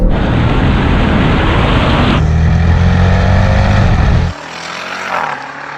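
Powerful cars, a BMW M2, Bentley GT, Jeep Trackhawk and Audi RS5, launch off the line in a drag race with a loud, roaring engine surge, then a sudden drop in pitch at a gear change, heard close and continuous.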